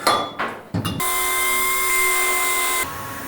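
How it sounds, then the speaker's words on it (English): Small belt sander whining steadily as it trims the end of a steel roll cage tube for a Datsun 240Z restomod, a few short bursts first, then one sustained close grind before cutting off. "get the little belt sander and just carefully tickle up this until it fits perfectly at the top"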